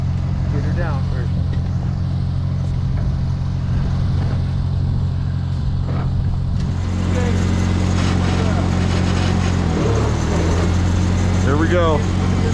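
A vintage International Harvester Farmall tractor idles with a low, steady engine chug that shifts in pitch partway through, loud and close, while people talk and call out over it.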